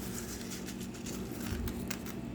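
Ice pellets fall like rain in Riyadh, a steady close pattering and crackle of many small impacts that continues without pause over a low rumbling background.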